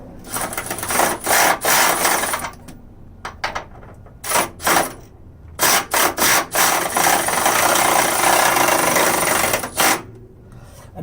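A power tool runs down the Hasport EGK4 motor mount bolts on a K24-swapped Integra, sending loud bursts of whirring and ratcheting in short repeated runs with brief pauses, then a longer sustained run, close to the microphone.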